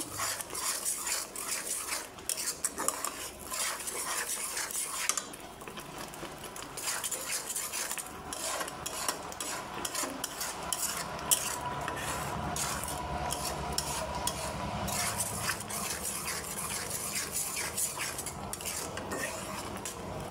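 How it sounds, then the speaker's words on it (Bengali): Vegetable ghati with added dal is stirred in a cooking pot, a long run of metal spoon scraping and clinking against the pot, steady and close, with no talk. "ভালো করে এখন নাড়তে হবে, নাড়াচাড়া করব।"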